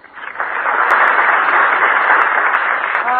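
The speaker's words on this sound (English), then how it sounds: "Yeah, they all applauded." Customers in a drugstore on a 1949 radio comedy applaud a jukebox record, a steady wash of many hands clapping that swells quickly and holds loud throughout.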